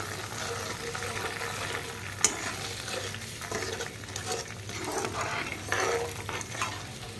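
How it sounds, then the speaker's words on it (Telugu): Tamarind juice, turmeric and salt being stirred in a pan for tamarind rice, giving steady close scraping and sloshing over a continuous low sizzle, with one sharp clink of the spoon partway through. "ఇప్పుడు మొత్తం మిక్స్ చేసేయాలండి."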